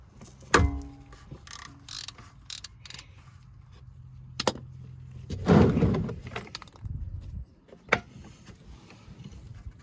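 A ratchet fitted with a 27 mm socket loosens the oil filter housing on a 2023 Hyundai Palisade. Sparse, close clicks and a few sharper clunks are spread across fairly quiet surroundings.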